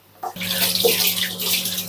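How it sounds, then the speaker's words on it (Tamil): Water poured into a tamarind mixture for a dry fish curry in a clay pot, a steady, close splashing stream that starts abruptly and runs without a break. "இதை கலந்து விட்டுட்டு தேவையான தண்ணி சேர்த்துக்கலாம்"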